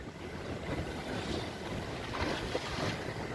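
Sea waves slapping against a small boat near Bato Island, a continuous rushing wash of water with wind buffeting the microphone, steady and moderately close with no talk.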